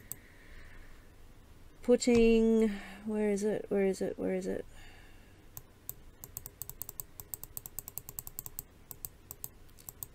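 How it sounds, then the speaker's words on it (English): A voice speaks briefly, then a run of quick, light mouse clicks patters irregularly close to the microphone after the talk stops. "Sorry if you can hear my mouse clicking."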